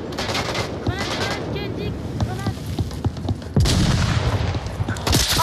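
Combat in the VR shooter Onward, with rapid gunfire bursts and a sharp, loud blast partway through, under players talking in French.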